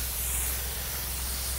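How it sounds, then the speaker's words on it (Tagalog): A sprayer hisses out foliar fertilizer onto tall chili plants, a brief steady spray close by with no voices over it. "So that's the time na mag-spray ulit tayo ng foliar fertilizer."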